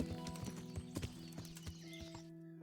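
Horse hooves clip-clop in a steady trotting rhythm in a video game, close and clear over a faint droning game background, cutting off abruptly at the end.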